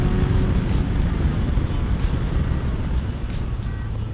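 A Suzuki RF900 motorcycle engine at highway speed, a steady, loud low drone with heavy wind rumble, sustained throughout with no clear gear change.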